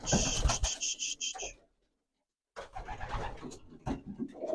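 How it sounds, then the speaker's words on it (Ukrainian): An old female pigeon at a pigeon show coos in close, repeated bursts, with a brief silent gap partway through. "то є оця старенька голубочка"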